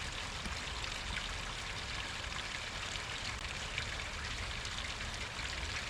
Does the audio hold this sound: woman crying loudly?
no